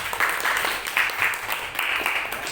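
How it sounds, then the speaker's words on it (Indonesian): Classroom applause for group 2, a steady patter of hand clapping from many students that holds throughout at moderate loudness, with no talking over it. "Kita beri aplaus dulu untuk kelompok 2."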